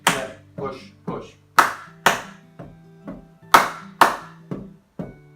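About eleven sharp hand claps at a steady, even pace during a marching warm-up exercise, close and distinct, with no talk over them.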